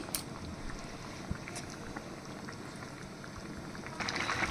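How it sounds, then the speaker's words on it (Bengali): Water is poured into a pan of simmering ridge gourd, potato and shrimp curry, giving a steady bubbling hiss that swells louder near the end, with no talking. "এবার আমি এর মধ্যে জল দিয়ে দিচ্ছি।"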